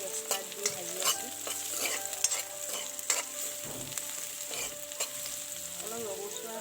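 Onion, garlic, ginger and bay leaf frying in oil for an egg paneer curry: a soft, continuous sizzle broken by repeated scraping and clicking stirs of a spoon against the pan, fairly quiet and close.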